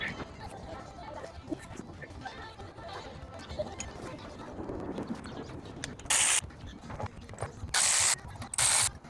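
Ratchet work while unbolting the cylinder head of a Dodge Challenger Scat Pack engine: a low mechanical clatter, then three loud, sharp ratcheting bursts near the end, close to the microphone.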